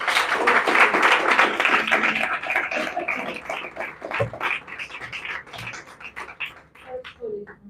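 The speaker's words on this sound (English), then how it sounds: "Big round of applause to all the candidates." A crowd at a local candidate forum for a county district supervisor race bursts into a loud round of applause that swells for a few seconds, then thins out into scattered claps and quieter room noise.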